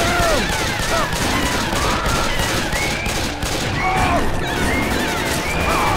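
Rapid gunfire rattles almost nonstop through a modded Left 4 Dead 2 match, dense and loud, mixed with in-game voices and shouting over the shots.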